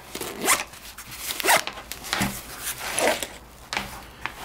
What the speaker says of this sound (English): It's a reverse zipper.